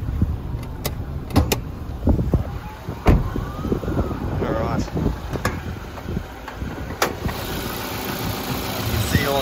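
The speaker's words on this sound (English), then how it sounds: "There's no unusual ticks or noises or anything coming from the engine, which is really good to see." A 2017 Toyota Hilux SR idles with the bonnet open, a low steady engine hum under scattered clicks, knocks and handling noises, with a brief voice heard nearby.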